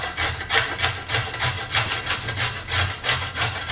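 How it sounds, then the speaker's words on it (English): Carrots are grated with a rhythmic scraping, about a dozen even back-and-forth strokes at a steady pace, close and fairly loud with no talking. "And so let me grate these carrots."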